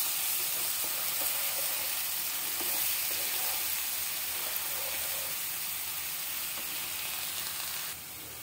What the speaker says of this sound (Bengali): পেঁয়াজ রসুনটা একটু ভেজে নেবো আমি।